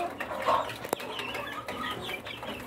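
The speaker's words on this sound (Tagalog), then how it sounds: "Update naman sa mga 1 month old na kuha natin, Rhode Island chicks." Month-and-a-half-old Rhode Island Red chicks on a farm, with soft clucks and chirps close by and a brief flutter among them.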